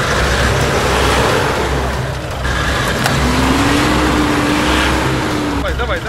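A Toyota Prado 150 engine drones and revs as the SUV crawls off-road, loud and close, with excited voices shouting over the motor.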